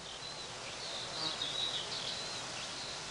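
Bees buzz around bramble blossom in a wood, a steady soft insect hum with faint bird chirps in the background.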